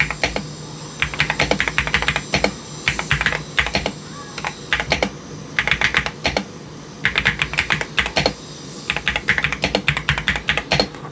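Fast typing on an MSI Forge GK600 TKL wireless mechanical keyboard during a speed test, close and crisp, with rapid bursts of clicky keystrokes separated by short pauses.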